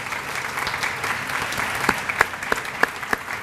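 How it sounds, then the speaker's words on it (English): Audience applause at a 2013 retirement tea, a steady dense wash of clapping from a roomful of people with a few sharper individual claps standing out near the end. "let's give them all a round of applause."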